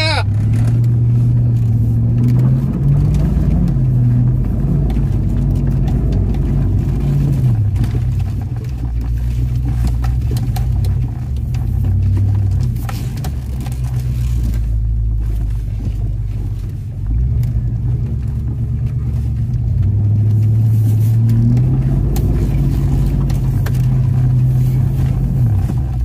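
A Cadillac engine revs loudly and steadily while its wheels spin without traction, the rising and falling drone filling the whole stretch up close, with a little speech faintly underneath.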